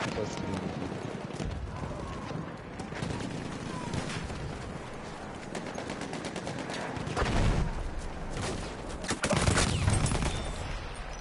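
Rapid bursts of gunfire and automatic weapon fire in the World War I shooter game Battlefield 1, crackling continuously with louder close shots near the end, with voices talking over it.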